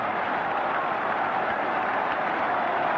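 A large crowd at a 1968 FA Cup fifth-round football match roars continuously after a goal, a dense, distant wash of cheering with no break.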